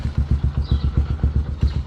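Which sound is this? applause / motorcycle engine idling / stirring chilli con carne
motorcycle engine idling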